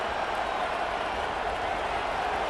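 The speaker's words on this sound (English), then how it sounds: "This crowd bringing the energy and noise early." Stadium crowd in EA Sports College Football, a dense, steady roar of cheering fans filling the space without pause.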